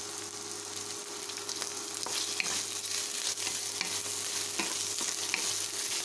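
Boiled beef cubes stir-fried in a pan for a coconut-milk beef curry with vegetables, giving a continuous close sizzle with occasional soft scrapes and taps as the meat is moved around.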